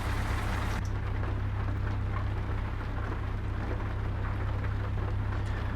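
Steady rain drumming on a truck while driving in Euro Truck Simulator, a continuous broadband hiss over a constant low engine drone, unbroken for the whole stretch with no talking.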